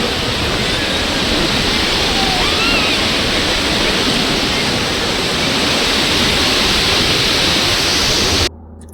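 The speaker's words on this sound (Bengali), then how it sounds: "একদম ডাইরেক্ট সমুদ্র থেকে" Sea waves at the Digha estuary make a loud, unbroken roar of surf, like a constant wash of water and wind, which cuts off abruptly at the end.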